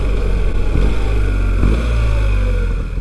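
A BMW 1300 GS Enduro motorcycle engine revs loudly and close, a steady throaty drone with two brief throttle blips, no one speaking.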